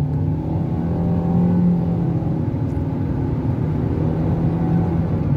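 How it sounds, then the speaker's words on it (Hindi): Hyundai i20 1.2 petrol IVT automatic accelerating on the road, a steady low engine drone with a smooth continuous whir, no gear-shift breaks, heard from inside the cabin at moderate level. "अब देखो मैं थोड़ा एक्सेलेट करके देखते हैं इसको"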